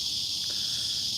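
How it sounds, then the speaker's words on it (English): Cicadas in the Australian bush give off a steady, unbroken high-pitched drone that holds at an even level from start to finish, with nothing else standing out. "It's our cicadas. They're just going off at the moment."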